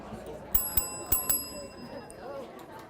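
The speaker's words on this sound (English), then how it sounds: "I should ring my bell." A hand bell rung by a presenter at a leadership talk, four bright metallic dings in quick succession with ringing tails that fade, fairly close in a quiet room.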